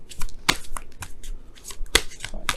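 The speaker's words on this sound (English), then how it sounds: "shuffle" A deck of tarot cards is shuffled by hand up close. Crisp riffling bursts and snappy card flicks come in uneven spurts with no talking.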